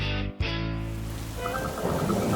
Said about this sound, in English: Another rainy day has arrived for Peppa's family.